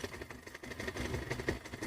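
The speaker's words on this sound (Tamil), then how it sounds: "இப்போ வந்து வண்டி ஸ்டார்ட் ஆயிடுச்சு" A car engine idles steadily after starting, a low continuous rumble with a mid-range hum held at moderate level, close by and without speech.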